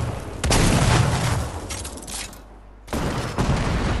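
Grenade launcher shots boom through a Fortnite Battle Royale match in two loud bursts with a lull between, the second blast rolling into a sustained rumble.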